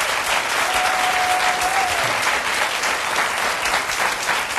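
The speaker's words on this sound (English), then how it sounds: "Please give my panel a round of applause," A studio audience applauds a panel on a talk show, a dense, steady wash of clapping that holds evenly throughout.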